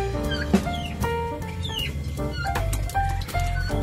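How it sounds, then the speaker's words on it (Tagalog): Busy poultry noise in the background, with ducks quacking and clucking in overlapping bursts and brief flapping, fairly close and steady throughout. "medyo maingay sa background kasi may mga pato"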